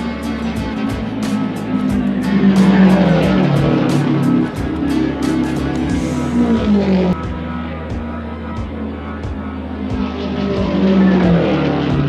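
A 1964 Watson Roadster Indy race car roaring through its final lap, a loud steady engine drone with shifting pitch, heard against a broad crowd and track wash.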